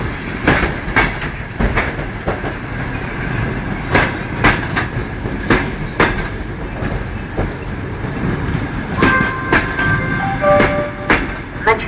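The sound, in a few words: ChS2 locomotive hauling a passenger train arriving at station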